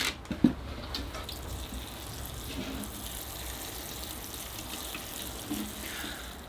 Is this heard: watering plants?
yes